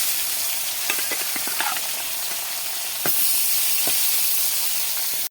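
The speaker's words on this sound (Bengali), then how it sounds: "কড়াইয়ে তেলটা গরম করে নিয়েছি। মাছগুলোকে এক এক করে ভেজে নেব।" Fish frying one by one in hot oil in a wok, a loud, constant close-up sizzle and hiss with a few sharp spits and clinks, getting a little louder partway through, then stopping abruptly.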